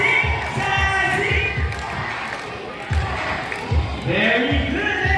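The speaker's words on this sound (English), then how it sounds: "all the girls will cheer for Sassy" Girls in a bird-show audience at Manila Ocean Park chant and cheer together for a parrot named Sassy, a loud continuous group of young voices with rhythmic bursts.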